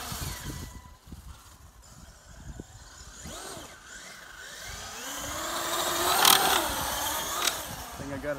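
An RC desert racer car with a Poseidon motor on an 8S battery runs nearby with a rising electric whine, sweeping up in pitch and growing louder toward the end over rough, clattering ground noise.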